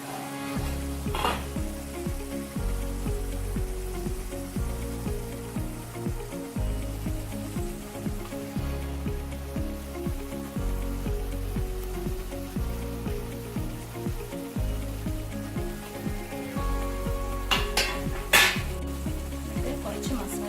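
Fish pieces frying in hot oil in a pan for a Kerala-style fish masala roast, a continuous crackling sizzle with periodic low bumps and a couple of brief clinks near the end, no voices.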